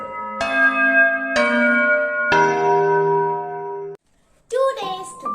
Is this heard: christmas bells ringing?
yes